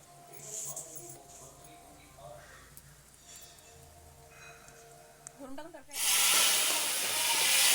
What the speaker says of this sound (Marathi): तर हा गरम गरम तडका आपल्याला त्या कढीमध्ये टाकायचा आहे